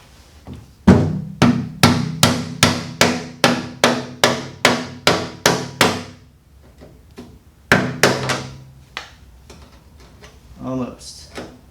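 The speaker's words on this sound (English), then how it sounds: "take a hammer and a flathead screwdriver and just gently tap it loose" A hammer striking a flathead screwdriver to tap a Pontiac Fiero fuel pump ring loose: a steady run of about a dozen sharp metallic taps, a pause, then a few more, with a voice talking near the end.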